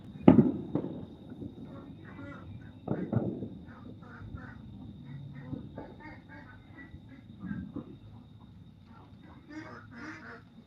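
Fourth of July fireworks bang in the distance, a scatter of faint irregular pops and thuds, with a rooster crowing and people talking nearby.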